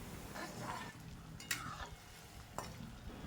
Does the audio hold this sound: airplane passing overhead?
no